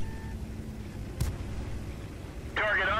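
One tank cannon shot that misses, fired in World of Tanks from a T 92 light tank: a brief sharp boom over a constant game rumble, followed near the end by a voice starting to speak.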